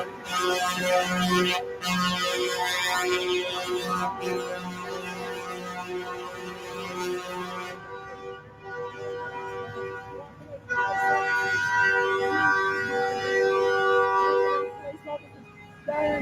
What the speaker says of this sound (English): Those horns are telling the world that police are coming.